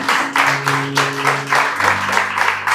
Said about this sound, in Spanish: ¿Podemos darle un aplauso al Señor